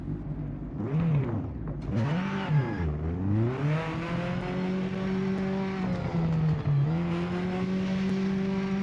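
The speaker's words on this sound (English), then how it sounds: "Listen to that engine." A race car engine in the video game Project Motor Racing, played on PS5, revs up and down through several gear changes, then holds a steady, loud, droning whine, with no talking.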